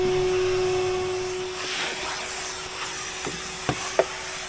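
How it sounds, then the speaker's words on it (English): A vacuum cleaner hoovering inside a campervan, a steady whooshing drone running throughout with a faint hum, a couple of short knocks and scrapes near the end as the nozzle moves around. "Hoovering supervisor."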